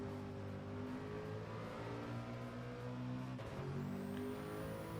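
A race car engine in Gran Turismo 7 holds a steady high-speed drone with strong low harmonics, running flat out on a straight at the High Speed Ring, with a brief shift-like dip near the end.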